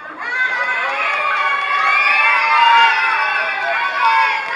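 A crowd of excited voices, including children, cheers and shouts together continuously, loud and close, with overlapping yells throughout.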